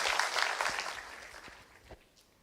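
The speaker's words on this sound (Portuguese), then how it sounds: "Vamos aplaudir esse povo todo, né?" Applause at an evening church baptism service as newly baptised people are cheered, a short burst of clapping that fades out quickly, fairly faint.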